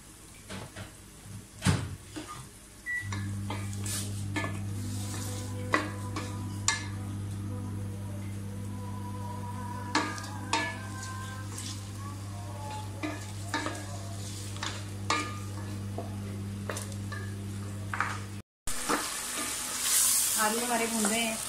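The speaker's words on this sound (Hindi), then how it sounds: "आलूओं को मसाले के साथ अच्छी तरह से भून लें।" Potatoes fry in a pan with spices for an aloo palak curry, a steady sizzle running throughout while a spoon scrapes and stirs in repeated clicks, with a low hum underneath and a brief cutoff near the end.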